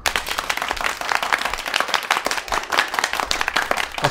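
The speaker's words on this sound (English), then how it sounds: "That's quite a small round of applause" A brief round of clapping from a small audience, with individual claps distinct and irregular over a few seconds, fairly close and lively but thin.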